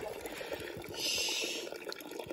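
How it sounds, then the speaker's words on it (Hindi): Hot water runs out of a wood-fired hammam water heater in Himachal, a steady splashing trickle with a louder, hissing surge partway through, and no one speaking over it. "यहाँ से जा रहा है ठंडा पानी और यहाँ से आ रहा है गर्म पानी बाहर"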